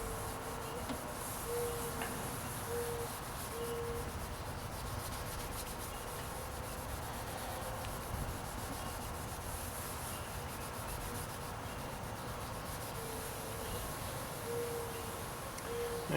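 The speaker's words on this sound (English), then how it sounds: "I'm going to give it a nice, good rub. Circular motion is good." Hand-held baking soda being rubbed in steady circles over a car headlight lens, a continuous close gritty scrubbing with no pauses and no talking.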